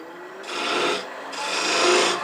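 A woodturning tool cuts a V groove into scrap wood spinning on a lathe, giving two close, loud, rough rasping passes with a brief gap between them.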